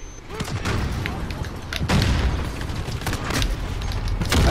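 Sustained gunfire from an aerial VTOL gunship in Call of Duty: Modern Warfare, a dense barrage of booming shots and thuds that stays loud for the whole stretch, with sharp bursts rising out of the rumble.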